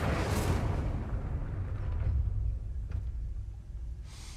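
A burst of magical fire erupts as the Incendio spell is cast in Hogwarts Legacy, a loud whooshing blast near the start that rumbles and fades over a few seconds, with a faint crackle later on.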